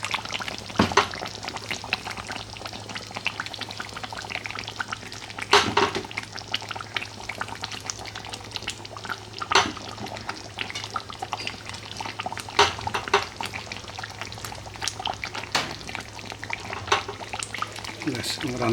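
Rupchanda fish curry cooked with milk and yogurt gets stirred in a pan, with a low simmering hiss under scattered sharp utensil clanks and scrapes at irregular intervals.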